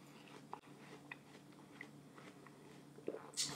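Biting into and chewing watermelon, close, wet crunching and munching in small bursts over quiet room tone, with a slightly sharper bite near the end.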